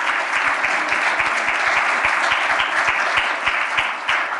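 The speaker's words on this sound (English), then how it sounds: "Please give them an applause and thank them for an interesting discussion and a fantastic exhibition." An audience at a design talk applauds, a dense, steady clapping from many hands that holds at an even level throughout, with no voices above it.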